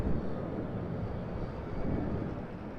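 A Qantas Boeing 787 airliner departing Sydney Airport for Dallas Fort Worth gives a steady, broadband jet roar with some wind noise, sustained and moderately distant throughout without any talk.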